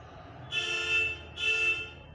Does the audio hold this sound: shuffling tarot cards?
no